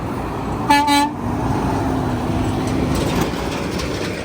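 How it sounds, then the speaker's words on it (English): A truck horn honks in two short, loud blasts by a roadside in the countryside, followed by the steady rumble of passing traffic. "Oh, he honked his horn again."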